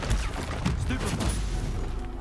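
A Stupefy spell cast in the Hogwarts Legacy video game gives a loud, dense burst of crackling blasts over a low rumble, dense and continuous throughout with no voice.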